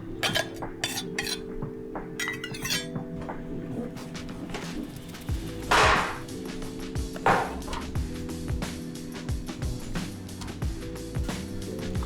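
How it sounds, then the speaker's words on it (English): Garlic cloves are worked in a small handheld mincer, giving a steady run of close metallic clicks, taps and scrapes against kitchen clutter, with no voices. "take our garlic cloves now and then put them into just a little tool that I have. I think it's called a mincer"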